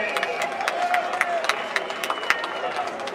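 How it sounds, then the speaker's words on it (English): Scattered clapping from an outdoor crowd at a 4:20 day rally in Civic Center Park, Denver, mixed with crowd hubbub and a voice talking over it. "Let's give them a round of applause."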